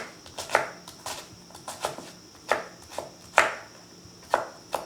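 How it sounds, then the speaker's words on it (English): A knife chops shallots on a cutting board in sharp, distinct strikes, about ten spaced irregularly, close and clear with no talking. "you want to cut down to the root with a knife"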